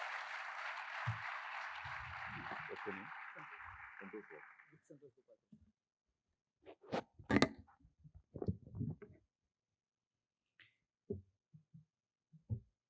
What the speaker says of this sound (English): Students, a round of applause for our Honorable Sri Jyotiraditya Scindia ji